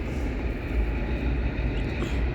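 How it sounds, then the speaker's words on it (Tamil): A train rolls past a Tamil village fishing spot, giving a steady, loud low rumble with continuous broadband rail noise throughout and no talking. "இந்த மாதிரி ட்ரெயின் போகுது பாருங்க."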